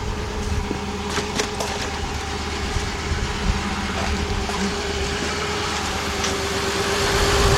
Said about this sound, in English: Yeah, this thing definitely got a misfire.